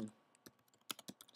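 A short burst of quiet, crisp keystrokes on a computer keyboard as a folder name is typed, several quick taps closely spaced with no speech.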